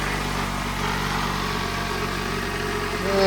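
A high-mileage Toyota Camry four-cylinder engine idles steadily with a smooth, continuous mid-pitched hum and a slight rise at the end, loud and close, with no speech over it.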